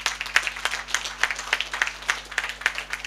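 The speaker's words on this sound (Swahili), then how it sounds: "Tuwapigie makofi kidogo" A small gathering at a Sacco launch event claps for the team in a sparse, rhythmic pattern, individual distinct claps spaced about every quarter second, fairly faint and without talk.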